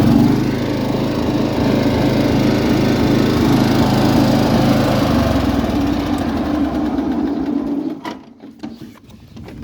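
A ride-on lawn mower engine catches and runs loud and close, its rhythmic thumping idle giving way to a rougher, steadier drone before cutting out near the end, with faint birdsong behind.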